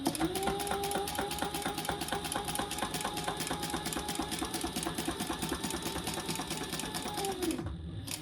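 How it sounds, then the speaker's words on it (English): Sewing machine stitching across a wallet slip pocket, a steady rapid mechanical whir and needle clatter running close and loud, then stopping near the end. "Now we're just going to sew across this side."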